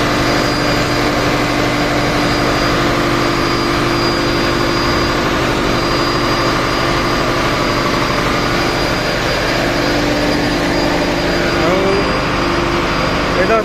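Engine of a passenger river launch on the Barishal route, heard from inside its engine room: a loud, steady, droning hum with a strong low tonal whine, continuous and close, with a voice speaking over it.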